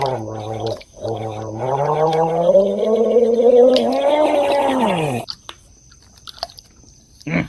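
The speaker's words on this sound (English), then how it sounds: "Gurgling's getting better." Water gurgles wetly and throatily in a long, loud, close bubbling stretch of about five seconds, like someone gargling, during a horror radio show. It ends abruptly and is followed by near silence with faint small noises.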